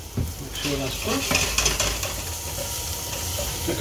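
Aubergine slices sizzle and fry in oil in a pan, a steady close crackle with intermittent clinks and scrapes of utensils against the pan.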